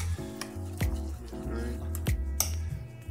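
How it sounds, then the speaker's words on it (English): A spoon stirs coffee grounds into water for homemade cold brew, giving a few close metallic clinks and scrapes against the container over a steady low background hum. "So take a spoon just to get it wet so it'll sink down."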